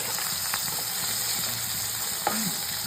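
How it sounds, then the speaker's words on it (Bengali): Fish frying hard in hot oil, a steady close sizzle and crackle with a few faint scrapes of stirring. "তখন কড়া করে মাছটা ভেজে নিচ্ছি"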